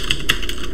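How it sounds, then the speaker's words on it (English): A few key presses on a computer keyboard while a shutdown command is entered, close and fairly loud, with two or three distinct clicks over a steady machine hum. "I'm gonna type sudo shutdown"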